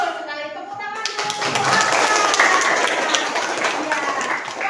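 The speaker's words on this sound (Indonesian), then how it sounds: "Tepuk tangan dulu." Classroom students clap together during a history lesson in Aceh, a lively burst of hand claps that swells and holds for several seconds, with voices mixed in.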